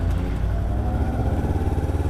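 A street vehicle's engine on Munich's Maximilianstraße, its steady low rumble close and loud as it throttles up, without the sharp rise of a clear rev.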